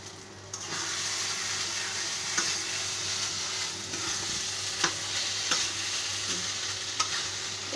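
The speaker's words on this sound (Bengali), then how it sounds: "এই যে আমার কচু বাটা, এখন আমি নামিয়ে ফেলবো। ভাজা আর কিছুক্ষণ একটু ভাজা ভাজা করবো" Taro paste frying in a pan, a steady continuous sizzle close up with occasional soft stirring scrapes and clicks, no speech.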